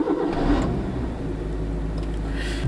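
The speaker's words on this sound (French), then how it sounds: "Vous allez entendre le doux bruit de son moteur." Car engine cranking and catching, then settling into a steady, loud idle rumble close by. No one speaks over it.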